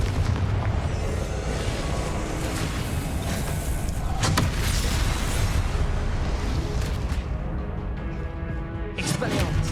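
Repeated booming blasts from the Confringo blasting spell in the game Hogwarts Legacy, loud and continuous amid other spell effects, forming a dense, roaring barrage with sharp bursts throughout.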